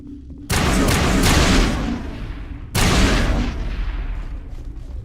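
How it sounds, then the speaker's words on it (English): Explosions and gunfire in the video game Mass Effect: two loud, broadband blasts strike in quick succession, each followed by a long rumbling decay, with no talk over them. "Oh, the explosions."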